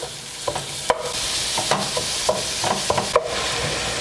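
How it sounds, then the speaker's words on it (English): Sausage sizzles in a pan while being stirred and broken up with a wooden utensil, steady frying hiss under repeated scraping knocks and clacks, close up with no talking. "Now we add our sausage. And in the pan, this is when you want to break it down."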